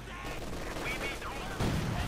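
Rifle fire from German Grenadier infantry in the real-time strategy game Company of Heroes 2, a dense rattling crackle of gunfire that runs steadily with a louder surge near the end.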